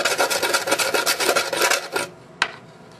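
Skateboard grip tape edges are rubbed down with a scrap of extra grip tape in fast, rhythmic rasping strokes for about two seconds, close and loud, followed by one sharp scrape after a short pause.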